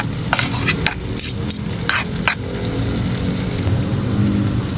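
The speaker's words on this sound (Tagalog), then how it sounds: "Haluin po natin ang ating breading mix at ating harina." Breading mix and flour are stirred together by hand for chicken wings: a steady dry scraping and stirring with a few sharper clicks, close and fairly loud, with no talking.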